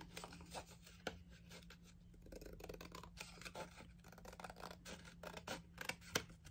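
Worn craft blade trimming paper edges for a scrapbook album, quiet close scratchy cutting and rasping strokes with small irregular ticks, faint and continuous.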